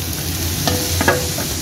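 Tomatoes tipped into a pan of boiled mixed vegetables for a veg biryani, giving a steady frying hiss with a few brief scraping stirs and soft clacks, close and moderately loud with no talking.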